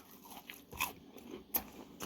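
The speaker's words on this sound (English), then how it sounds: "Hear the crunch?" Fried calamari crunches between the teeth in a few short, crisp bites and crackles, quiet and close, with no talking.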